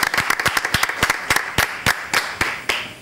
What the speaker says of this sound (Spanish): aplauso para Jimena